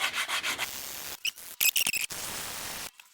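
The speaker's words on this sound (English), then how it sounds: "So I've spent a lot of time now sanding this to get it right." Rhythmic back-and-forth hand sanding of a wooden model car part, close and fairly loud, in short strokes with a few pauses, no voices.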